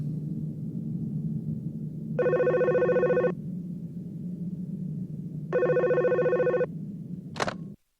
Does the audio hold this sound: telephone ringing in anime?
yes